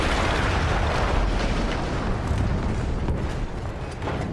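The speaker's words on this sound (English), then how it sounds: "That explosion was one of the sweetest sights of the war for me." A large explosion in the World War I shooter Battlefield 1 booms and rumbles continuously, loud and close, with a dense crackling roar that slowly tapers off and no talk over it.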